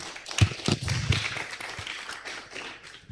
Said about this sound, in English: Please clap for Faith.